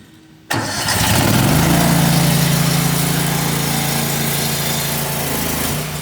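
A small gas engine on a pressure washer mounted on a trailer cranks and fires up, then settles into a loud, steady, close running drone with no talk.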